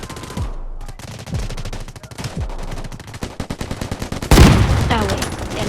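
Gunfire in the video game Delta Force: a rapid series of close, sharp shots pops in quick succession, building to a louder, heavier burst near the end, with faint voices in the background.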